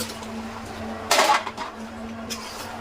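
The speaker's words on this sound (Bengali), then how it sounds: "এখন এই যে আমি মাংসগুলো দিয়ে দিলাম।" Meat is dropped into a pot of spiced masala for biryani, making a short burst of sizzling and clattering that fades under a steady hum. A second, smaller sizzle follows.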